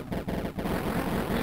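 Rapid gunfire in the Cave Story video game, a dense, continuous burst of chiptune shots layered over game music.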